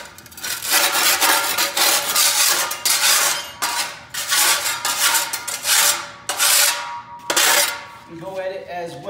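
Flat shovel scraping old stuck carpet padding off a floor, loud rough rasping strokes in bursts of a second or two, repeated with short pauses between.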